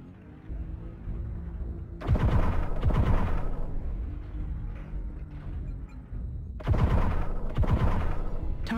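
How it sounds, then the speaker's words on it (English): Ultra autocannon (UAC20) fire from a Centurion CN9-YLW mech in MechWarrior Online: two loud double bursts of heavy, rapid shots, separated by a quieter stretch of low rumbling background. "Ultra auto cannon ammo depleted."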